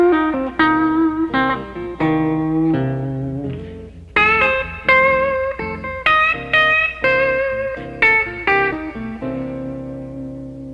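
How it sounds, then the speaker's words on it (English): Clean blues guitar licks ring out phrase by phrase over the opening bars of a 12-bar blues in C, bright picked notes and bends in short bursts with the backing sitting low underneath. "Now I'm going to show you a couple of licks that you can play on the first 4 bars of a 12-bar blues progression."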